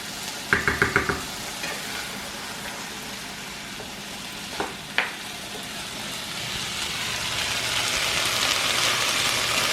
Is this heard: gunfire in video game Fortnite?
no